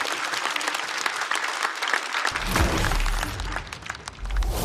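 A stand-up comedy show audience breaks into applause, dense clapping throughout that swells louder midway, with a bit of crowd noise mixed in.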